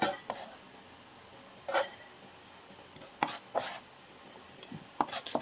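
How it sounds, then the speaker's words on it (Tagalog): Yellow chives being chopped with a knife on a cutting board, several sharp irregular knife strikes spaced apart, close and clear with no talking. "So i-chop na lang natin."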